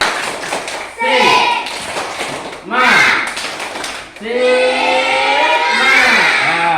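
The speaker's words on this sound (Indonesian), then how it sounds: "coba tepuk semangat" A class of schoolchildren performs a rhythmic spirit clap, bursts of patterned clapping and tapping mixed with the children's chanting voices, loud and close, in repeated phrases.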